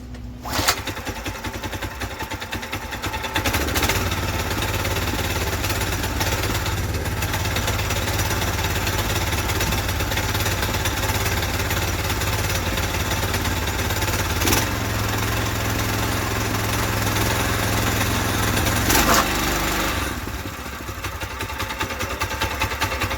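A Predator 212 small engine fitted in a Volkswagen Baja Bug runs without a break, a loud, rough, rapid chugging that holds steady for over twenty seconds with a few brief surges.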